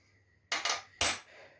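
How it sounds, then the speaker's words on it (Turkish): A metal fork clinks and scrapes against a bowl while mixing an egg hair mask, three quick close taps followed by a softer scrape, with silence around them. "Ama ben çatalla karıştıracağım."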